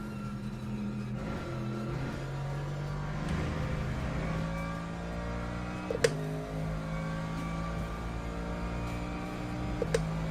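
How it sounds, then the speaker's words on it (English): An Alfa Romeo 156 touring car engine in a racing video game drones and revs through gear changes, with rising tones and brief sharp shifts, moderately quiet and steady. "It sounds amazing, that engine."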